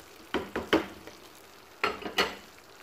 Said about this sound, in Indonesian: Terus diaduk lagi biar tercampur rata.